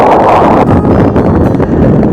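Steady mountain wind in the Cordillera region of Luzon, Philippines, rumbling and buffeting across the microphone, a continuous roar with no pauses.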